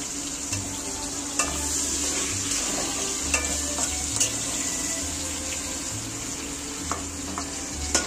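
A wok coated with salt and turmeric fries with a soft, continuous sizzle. Occasional light clinks and stirring scrapes sound over it, and there is no talk.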